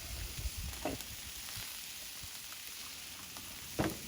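Chicken fried rice with carrots and garlic sizzles steadily on a Blackstone griddle, with occasional scraping clinks of a spatula as it is stirred.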